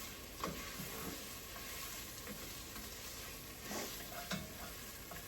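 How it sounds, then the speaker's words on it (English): Tomato paste stirred in a pot with vegetables for Aegean fasolada, a quiet constant sizzle with soft scrapes and occasional knocks of the spoon against the pot. "And it does say to stir it constantly for about another 2 minutes."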